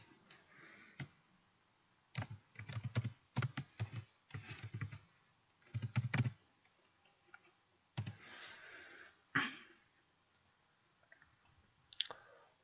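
Bursts of typing on a computer keyboard while a folder name is entered, clusters of quick close clicks separated by short pauses, with no talk.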